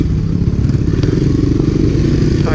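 Honda ATC three-wheeler, a 1985 ATC250SX or Big Red, pulling in low gear up a trail hill, its engine a steady, loud close-up chug with light clatter and scraping from the rough ground.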